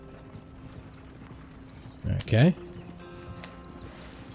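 Horses clip-clopping along in the Red Dead Redemption 2 video game, a steady hoof rhythm beneath a game soundtrack, with a short burst of speech in the middle.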